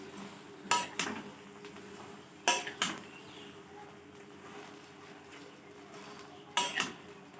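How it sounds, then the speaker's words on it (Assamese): A spoon stirs sweet jujube (bogori) pickle in a metal pan, giving a few separate clanks and scrapes against the pan, with quiet pauses between them. "এতিয়া অকণমান ভালদৰে লৰাই ল'ম।"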